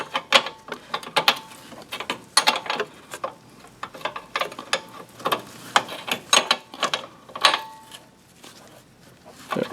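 A flare nut wrench works a brake hose fitting on a 2006 Chevy Silverado, giving irregular close metallic clicks and ratcheting taps in short bursts, with small scrapes between them and no speech.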